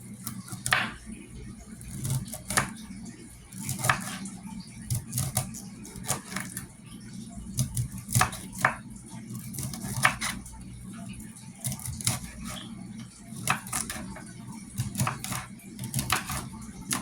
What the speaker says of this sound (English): So we got to get all of our veggies cut down so everything will go into the